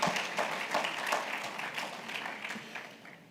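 Applause from an audience at a regional business conference, a short burst of scattered clapping that fades over a few seconds.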